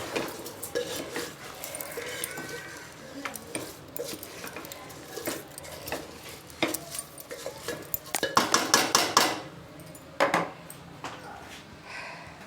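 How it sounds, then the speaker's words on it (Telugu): A metal spoon scrapes and clanks against a pot while rice is stirred into a vegetable biryani, with steady close clatter and a louder burst of knocks near the end. "బియ్యాన్ని వేసాక కలపాలి బాగా"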